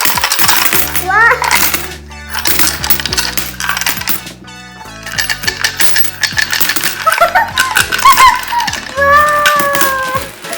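Coins spill and clatter out of a child's opened savings box, a dense metallic jingling that runs nearly continuously for about ten seconds, with brief pauses and several bursts of loud rattling close by.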